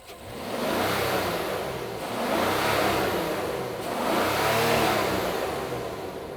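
A Rolls-Royce Cullinan Black Badge with an upgraded sports exhaust, revved three times in a row, each swell rising and falling smoothly, heard up close with no talking.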